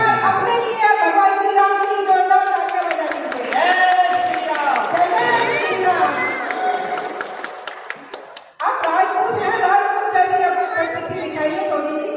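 Applause from an audience at a Rajput Vikas Mahasabha poetry stage event, a dense patter of clapping from a seated crowd that runs throughout and mixes with voices, briefly dipping before resuming.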